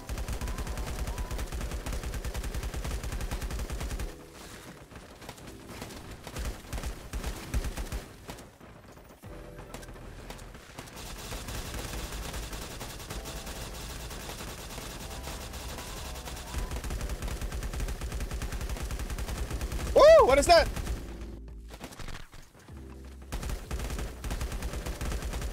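Shotgun fire in the online survival game LifeAfter during a livestream, with gun bursts and sharp reports scattered over a busy game mix, one louder blast standing out near the end.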